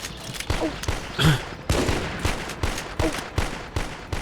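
Sniper gunfire and other rapid shots ring out in the Pixel Gun 3D video game, loud sharp cracks repeating at an uneven pace with brief bursts close together.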